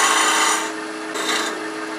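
A lathe gouge cuts into spinning wood while turning a hot air balloon ornament, giving a close, steady scraping rasp that dips briefly and then resumes, with no voices.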